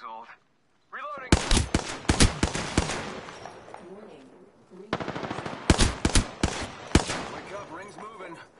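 Video game gunfire comes in bursts of rapid, close, loud shots, spread over two separate clusters with short gaps between them, while a voice speaks underneath.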